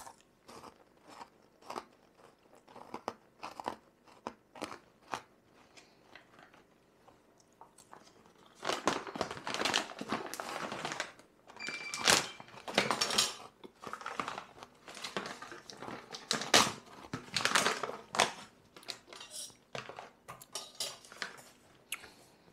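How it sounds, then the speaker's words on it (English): Crunchy chewing of chocolate coated chips with a smoky chili flavour, close and dry, with repeated brittle bites and crackles that grow louder and denser midway, no talking. "it's got that horrible crunch to it, like you're chewing on honeycomb"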